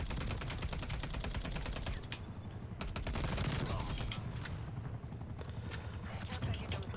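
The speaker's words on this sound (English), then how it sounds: "So now I get to try out my submachine gun." A submachine gun in Call of Duty: Black Ops Cold War fires in rapid bursts, loud and close, with brief gaps between volleys and game battle noise underneath.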